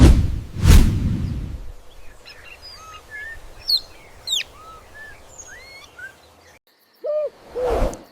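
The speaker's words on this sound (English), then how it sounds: "Owls are not just majestic." Wild birds call in a natural setting, with short whistled chirps and calls scattered across several seconds, preceded by a brief whoosh and ending with a couple of hoot-like notes nearby.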